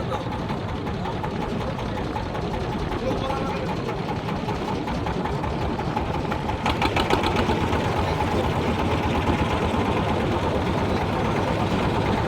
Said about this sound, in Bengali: ওই যে নৌকা বেরোইছে।